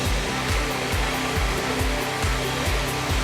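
A backyard pool waterfall at a McKinney, Texas home pours in a constant, close rush of splashing water, steady and unbroken, with faint low thumps and no voices.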